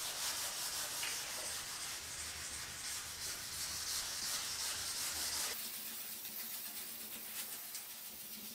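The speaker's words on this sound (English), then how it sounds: "we're using 600 grit sandpaper on the block and we're just sanding it in one direction only." Steady close-up rubbing of 600 grit sandpaper on a sanding block, worked in one direction over a guide-coated car panel being prepared for rattle-can paint, a continuous scratchy hiss that shifts slightly in tone partway through.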